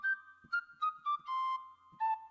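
Flute setting on a child's toy keyboard, a short run of thin, pure whistling notes, some held and some clipped, with a faint tap between them, played quietly with no voices.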